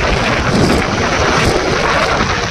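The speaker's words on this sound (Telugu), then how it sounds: "వెళ్తుంది చూడండి ఫ్లైట్" An airplane flying near an airport, heard as a steady, loud broadband roar with wind buffeting the microphone throughout, no voices.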